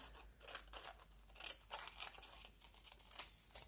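Scissors cut through paper in a series of crisp snips and crunches, close and fairly quiet, with no voices.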